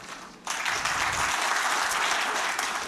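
Married men in a comedy club audience applauding: after a brief quiet start, a sudden burst of many hands erupts and holds as an even, full wash of clapping to the end.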